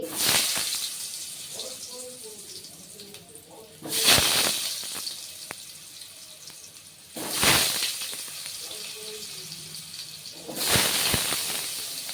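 Potato pieces drop into hot oil three times with loud, broad bursts of sizzling, each fading to a steady frying hiss, while a voice talks quietly in the background between them.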